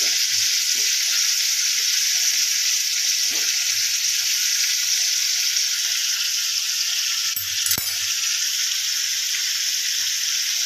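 Chicken masala frying in a pan after grated coconut is added, giving a constant, even sizzle with a few soft stirring taps and one brief scrape near the end.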